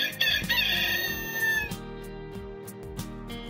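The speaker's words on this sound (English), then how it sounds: "The rooster crows on sunrise." Close, loud cock-a-doodle-doo from a rooster, a wavering crow for the first two seconds that fades into a low droning background with a few faint clicks.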